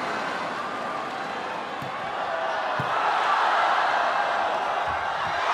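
A large arena crowd at a women's volleyball final between China and the Netherlands cheers and roars in a sustained, dense wash that swells louder midway and stays loud to the end.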